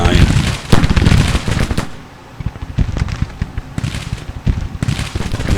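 Artillery firing canister shot in the video game Grand Tactician: The Civil War, a loud, continuous crackle of booms and rapid bursts that dips briefly before resuming at full intensity.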